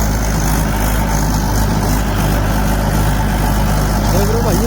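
Mahindra 575 tractor engine running at about 1500 RPM in a wet field, a loud steady low drone with continuous rumble close by, with someone talking over it.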